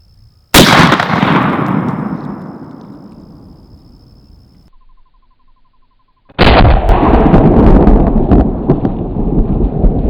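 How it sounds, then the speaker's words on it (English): A 45-70 Winchester Miroku 1886 lever-action rifle fires a hard cast bullet into a row of pumpkins: one loud, sharp close blast with a long rolling decay, then after a brief quiet a second heavy blast or sound whose loud tail carries to the end. "load the hard cast and see how many of the remaining pumpkins we can get through with one shot"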